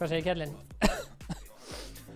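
A man coughs once sharply during a Fortnite game stream, preceded and followed by talk and throat noises, close to the microphone.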